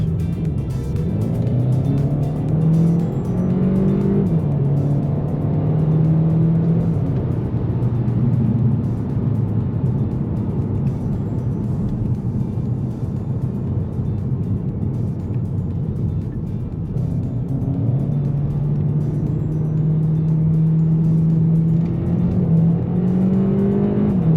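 A 2018 VW Golf GTE plug-in hybrid with a 1.4 TSI 204 hp engine drives along, its steady engine drone rising and falling in pitch through gear changes, heard close from inside the cabin with no talking.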